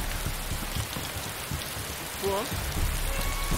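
Steady rain falls in the DayZ Standalone game, a dense continuous hiss with patter on surfaces, while someone speaks briefly over it.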